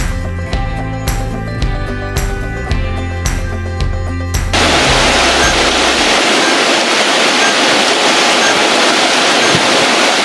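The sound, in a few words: waterfall on the Isle of Skye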